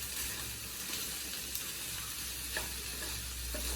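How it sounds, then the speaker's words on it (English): A quick stir of a glaze in a hot pan on a cooking-competition stove, a soft continuous sizzle with faint scraping and a few light clinks, all low and steady. "Give it a little quick mix."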